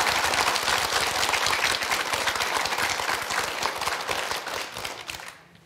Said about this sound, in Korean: 진짜로 박수 한번 주세요.